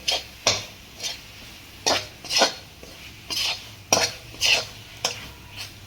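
A spoon stirs lauki coconut ladoo batter in a pan in slow, rhythmic scraping strokes, about one per half second, close and clear with a faint sizzle underneath.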